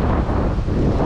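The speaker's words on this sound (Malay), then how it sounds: "Kalau hampa dengar bunyi angin tu." Strong wind at sea on a fishing trip roars and buffets the microphone in a loud, continuous rush, with boat and water noise blended underneath and no voices.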